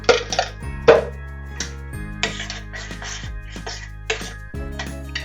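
Ginger and coriander batter being mixed in a bowl, with repeated clinks and scrapes of a utensil against the dish in uneven strokes, close and fairly quiet with a steady low hum beneath.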